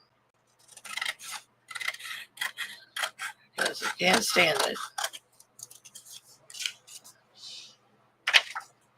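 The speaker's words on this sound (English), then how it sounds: "Okay, so we're going to straighten it up with our scissors." Scissors snip through a crooked torn edge of paper while straightening it for a handmade journal, giving a run of short dry cuts and rubbing sounds close by, interleaved with someone talking.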